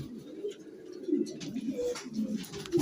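Pigeons cooing in a loft, several soft low throaty coos overlapping close by, with faint rustling and no voices.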